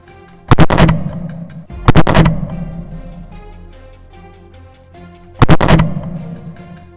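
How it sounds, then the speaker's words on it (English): Three loud, sharp rifle shots ring out during a wild boar hunt in a snowy forest, each followed by a lingering echoing decay, spaced irregularly over several seconds. "The booming gunshot silenced its final hope of escape."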